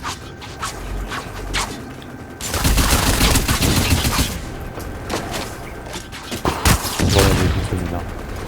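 Rapid bursts of gunfire from a multiplayer shooter video game, loud and dense, with sustained volleys after the first couple of seconds and a voice speaking at times over the shots.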